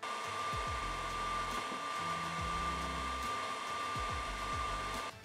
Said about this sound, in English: And even when it's idling, the fans are very noticeable.